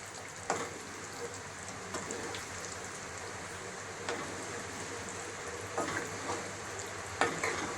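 A Nellore-style gandi fish curry (chapala pulusu) is stirred in a pan, the spoon scraping and knocking against the metal every second or two over a soft continuous simmering sizzle, close by with no talking.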